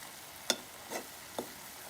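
Masala frying in hot oil for paneer butter masala, heard as a few sharp, faint stirring scrapes and crackles spaced about half a second apart over a soft steady sizzle, with no talking.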